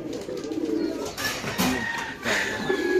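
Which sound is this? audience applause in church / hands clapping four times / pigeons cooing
pigeons cooing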